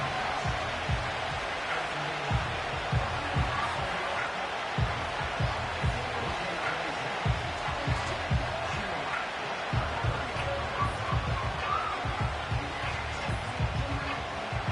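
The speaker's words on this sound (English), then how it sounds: "the crowd getting into it as we come up on a big third down" A stadium crowd in a Madden football video game roars in a steady, dense wash of cheering with rhythmic low thumps running underneath, holding at an even level throughout.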